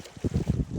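A small boat moves through water near a sea walk at a river mouth on the coast at Kodi, Kundapura, heard as short choppy splashes and wind buffeting the microphone, close and brief.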